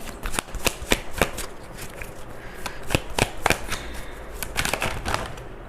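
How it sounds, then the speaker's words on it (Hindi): Tarot cards are shuffled by hand at close range, a quick run of crisp riffling snaps and flicks in an irregular rhythm with no speech over them. "Let's continue shuffling."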